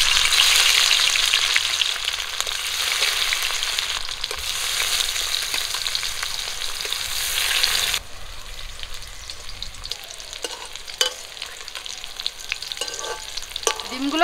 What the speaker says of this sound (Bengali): তেল গরম হয়ে গেছে, ডিমগুলো ভেজে নেব।